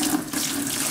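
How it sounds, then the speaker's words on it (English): Water poured from a container into a bucket of concrete mix for pavers, a brief, loud, continuous splashing stream with no voices. "And dump some water in here"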